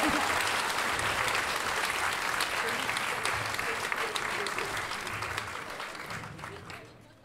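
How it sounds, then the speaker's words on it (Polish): An audience at a live comedy improv show claps and applauds steadily, a dense even patter that holds for several seconds before fading away. "Wielkie brawo dla nich!"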